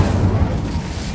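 An Incendio fire spell cast in Hogwarts Legacy sounds as a loud, low, roaring burst, like an eruption of flame, that rumbles steadily and fades slightly over about a second.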